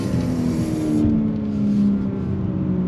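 A 2022 BMW M4 Competition on a track under throttle, a loud, steady engine roar with rising harmonic tones as it accelerates through a right-hand turn, heard from inside the car with no talking.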